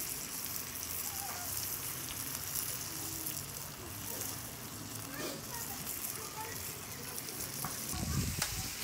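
Onions sizzling and frying in a pan while cooking pelaf (plov), a broadband steady crackle running throughout at moderate loudness, with some quiet background sounds.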